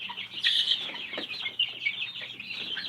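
Baby chicks in a brooder chirp and cheep continuously in a dense, close chorus of high peeps, busy and overlapping without pause.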